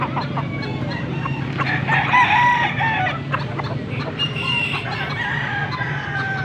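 A nine-month-old stag rooster crows a few times close by, shrill and harmonic, over steady background noise at a Philippine poultry sale, with no talking.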